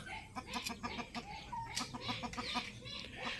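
A three-year-old fighting rooster clucks in a rapid series of short, repeated calls mixed with a few louder squawks, close and fairly quiet, with no talk over it.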